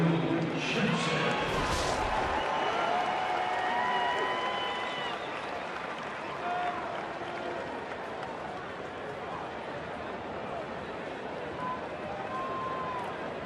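A crowd cheers and roars through a Mets at Cubs baseball game at Wrigley Field, a dense, steady wash of noise with a brief sharp burst near the start. Underneath, a commentator talks.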